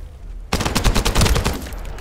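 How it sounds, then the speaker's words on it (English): A rapid burst of automatic gunfire in The First Descendant video game erupts after a moment of quiet, loud and close, with sharp rattling shots fading toward the end. "That stopped the gunfire."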